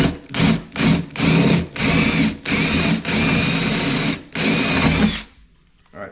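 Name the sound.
drill making holes in plywood for an outlet box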